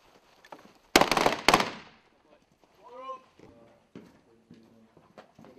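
Live-fire army attack training with SAR 21 assault rifles: two loud, sharp gunshot bursts close together near the start, followed by fainter clatter and a shouted voice.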